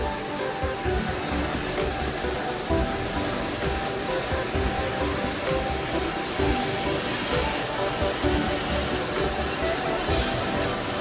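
A rotating hot drum coffee roaster turns raw beans for Turkish coffee, giving a steady loud whooshing roar with a faint rattling texture throughout and no speech.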